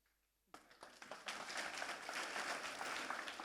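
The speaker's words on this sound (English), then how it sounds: "Was the claps for the free tickets or for me?" Audience at a tech conference on AI and IoT breaking into applause after near silence, a few scattered claps quickly swelling into steady, moderately loud clapping from the crowd.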